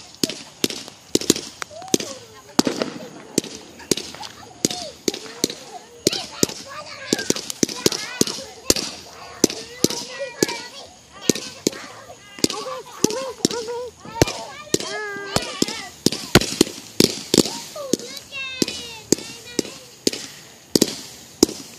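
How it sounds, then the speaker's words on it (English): Fireworks at a 4th of July show burst in a rapid, irregular barrage of loud cracks and booms for the whole stretch, with people talking and calling out among the blasts. "Look at the fireworks, boy."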